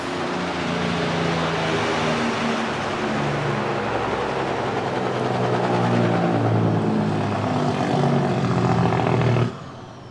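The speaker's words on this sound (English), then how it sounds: "That's a loud truck." A loud, steady engine roar of a large vehicle passing close by, holding for several seconds before cutting off abruptly near the end.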